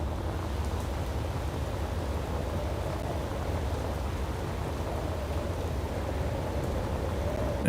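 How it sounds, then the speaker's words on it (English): Steady rain in the video game Space Engineers hisses on and on in foggy weather, with a low rumble under it and no speech. "Now it's raining, it's foggy."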